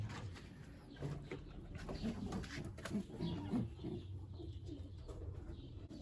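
Soft, low pigeon coos repeat in short bursts over a steady background hiss, fairly close and moderately quiet.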